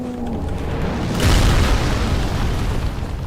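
A sniper's gunshot in Dark Souls 3 lands as one loud, heavy boom with a rumbling tail, set against continuous game ambience.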